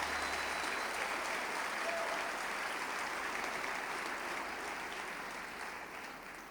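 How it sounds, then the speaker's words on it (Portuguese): A church congregation at an anniversary service applauds loudly and continuously, a thick wash of many hands that stays even and then gently tapers toward the end. "Você pode aplaudir a Jesus o mais forte que você pode."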